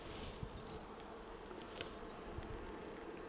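Honeybees humming around an open hive during a brood inspection, a faint, continuous buzz with a few soft clicks and bumps, no voices.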